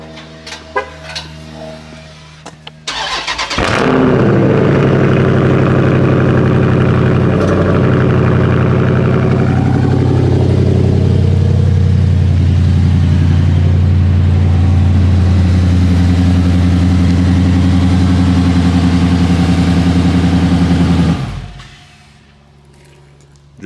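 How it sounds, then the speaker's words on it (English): A Dodge Charger Scat Pack with a mid-muffler delete cold-starts with a sharp crank and roar, then settles into a loud, deep, rumbling idle that holds steady for about seventeen seconds before the engine is shut off. "I know y'all want a cold start, so let me give y'all one."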